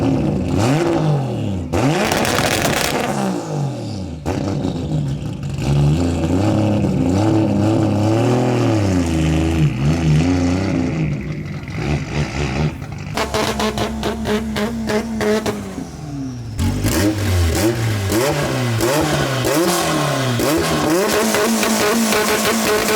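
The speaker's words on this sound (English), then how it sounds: "Got the 2J S14, just gave it some revs." A Nissan S14 fitted with a 2JZ engine revs hard at a car meet, loud and close, with repeated rising and falling blips of throttle and a sharper burst near the end.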